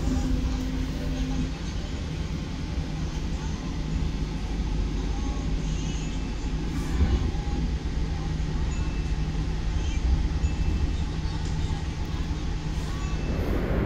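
The Logawa passenger train at Purwosari station in Indonesia produces a steady, moderately quiet low rumble of idling or slowly moving railcars, with faint station ambience and no clear voices.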